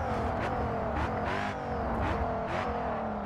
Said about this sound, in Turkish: Nasıl bir egzoz bu böyle?